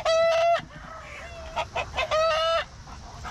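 Loud, close squawking from a hen in a poultry yard comes in two strong bursts with softer clucks between them, and no voices are heard.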